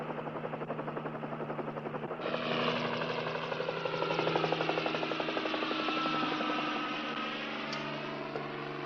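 A helicopter flies near a ranger station, its engine droning steadily with a rapid rotor pulse that grows louder partway through and then holds, with no voices over it.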